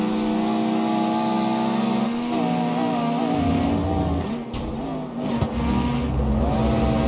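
A Chevrolet Camaro in a racing video game roars loudly and continuously, its engine revving and shifting with harmonic whine throughout, close and prominent with no talking.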